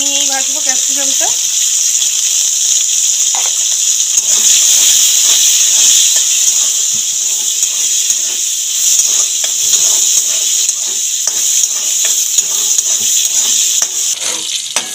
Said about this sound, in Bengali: গরম তেলের মধ্যে ক্যাপসিকামগুলো ভেজে নেব।